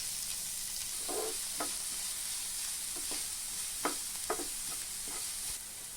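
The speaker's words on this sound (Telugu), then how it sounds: "ఈ క్యారెట్ ఆనియన్స్ దోరగా వేయించుకోవాలి" Chopped carrots and onions fry in a little oil in a pan, giving a constant sizzle with several short scraping stirs of the utensil scattered through, close and steady with no talking.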